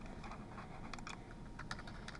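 Computer keyboard typing, a quick run of soft, close keystroke clicks in an irregular rhythm over a quiet background.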